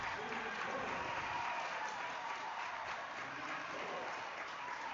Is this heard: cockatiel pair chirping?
no